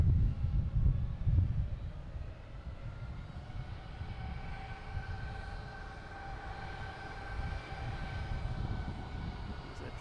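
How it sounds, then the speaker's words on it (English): A Spirit Airlines airliner arriving at Boston Logan Airport, a steady, moderately distant engine whine and rumble that holds level throughout, with no talk. "So we got that Spirit Airlines coming in here"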